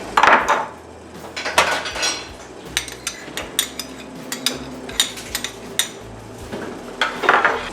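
Kitchen clatter from a sandwich being made nearby: dishes, cutlery and wooden knocks in irregular, sharp taps and scrapes throughout, moderately loud with no voices.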